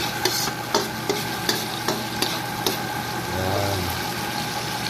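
Chicken breast marinated in chili powder goes into a pan with vegetables, giving a steady sizzle broken by regular scraping stir strokes, with a low rumble midway.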